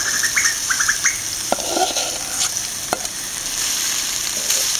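Marinated idli being stirred through a mutton gravy masala in a pan, giving a steady close sizzle with scraping stir strokes and a few sharp clinks of a spoon against the vessel.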